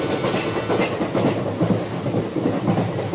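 A running train's steady rhythmic clatter and rumble of wheels on rails, continuous and fairly loud, used as a sound effect in a Bengali horror audio story, with no voices.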